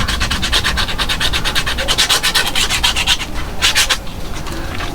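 Rapid, repeated strokes of sandpaper scuffing a shoe sole, close and loud, with a steady rhythm that briefly eases near the end and then returns in a quick final burst.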